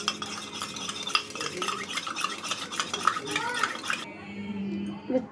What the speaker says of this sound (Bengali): এবারে একটা গ্লাসে আমি ডিমটা ফেটিয়ে নেব। ডিমের মধ্যে সামান্য নুন দিয়ে ডিমটাকে ভালো করে ফেটিয়ে নেব।